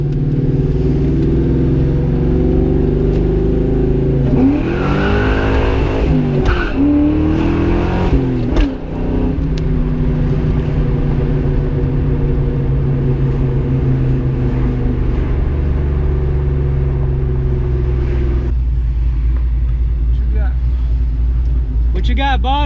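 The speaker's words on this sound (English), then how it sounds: "Nothing beats the sound of a good old Ford V8 with cams." A cammed Ford 4.6 V8 in a 2001 Mustang GT with a Marty Ochs street tune idles with a loping, choppy rumble and a few throttle blips, loud and close, with people talking over it.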